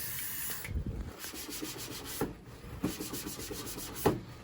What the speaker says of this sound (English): WD-40 and a rag.